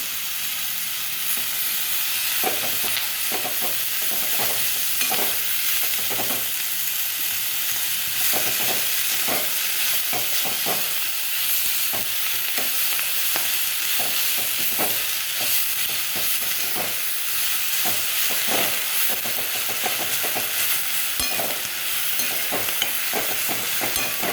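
Dried fish (sukat) roasting in a pan, a continuous dry sizzle and hiss broken by frequent short scraping strokes as it is stirred, steady and close with no speech.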